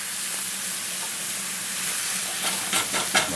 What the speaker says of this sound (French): si vous ne mettez pas de gras, vous n'arrivez pas à bien rôtir la viande